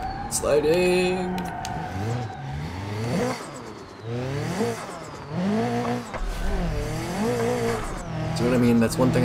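In BeamNG.drive at Hirochi Raceway, race car engine revs surge and drop while tires squeal in wavering, rising screeches as the car slides, loud and close, with a voice calling out briefly.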